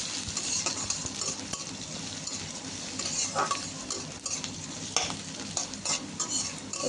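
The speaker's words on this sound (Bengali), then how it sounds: "পেঁয়াজ কুচি দিয়ে ভালো করে নেড়ে চেড়ে নিতে হবে" Chopped onion frying in oil in a pan for a Bengali tengra fish curry with potato and pointed gourd, a steady sizzle broken by scraping stirring strokes. It is fairly loud and close, with no talk.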